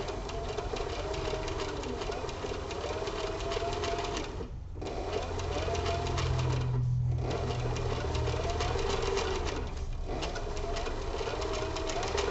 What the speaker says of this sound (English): now we can sew this sucker up.